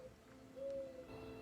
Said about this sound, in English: Listen to the doves.